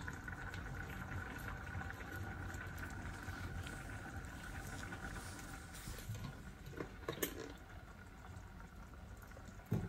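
Oil heating in a small tempering pan before mustard seeds go in, giving a steady soft sizzle and bubbling hiss that runs throughout at an even level, with a faint clink near the end.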